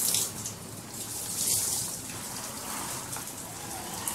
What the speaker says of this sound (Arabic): هبدأ بقى اشطفها، اشطفها كويس خالص